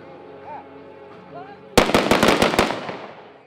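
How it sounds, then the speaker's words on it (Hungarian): Sudden burst of rapid gunfire cracks and blasts at a police crime-prevention demonstration in a school courtyard, a loud rattling volley that ends in a decaying echo after a quieter stretch of ambient sound. "Fegyverropogástól és robbanásoktól volt hangos múlt csütörtökön a Szalízi Szent Ferenc Gimnázium udvara és annak környéke."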